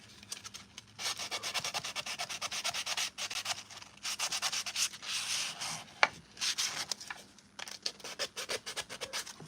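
Sandpaper rubbing over a painted, Bondo-filled Mandalorian armor piece: close, rhythmic back-and-forth scraping strokes with short pauses, continuing steadily throughout.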